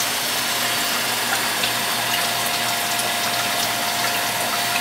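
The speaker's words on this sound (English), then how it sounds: "that water's coming out hot right now" Hot sparge water rushes steadily out of an electric RIMS heater in a home brewing setup, a loud continuous flow with a faint mechanical pump hum underneath and no talking.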